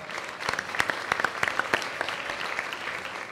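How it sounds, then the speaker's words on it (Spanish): Applause from a live comedy monologue audience, steady clapping with individual sharp hand claps punching through near the front, moderately loud and continuous throughout, with no speech on top. "Un aplauso para Oscar"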